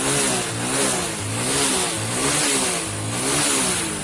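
A Hero Splendor motorcycle engine, just restarted after a spark plug current fault, revving up and down in slow repeated swells over a steady mid-pitched idle, close and loud with no voices.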